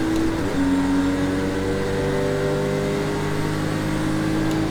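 A race car in Project Cars 2 accelerates steadily, its engine drone rising and holding at a loud, continuous pitch with no pauses or talk.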